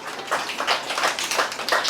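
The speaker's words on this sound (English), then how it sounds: "claps into Apsa, bigger claps" Schoolchildren clap together in a classroom, about seven loose, slightly uneven group claps in a steady rhythm.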